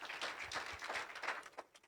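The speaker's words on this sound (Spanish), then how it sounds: "dale una fuerte ofrenda de palmas al Señor." Short burst of congregational clapping during a church service, a quick uneven patter of hands offered to the Lord, fairly faint and fading toward the end.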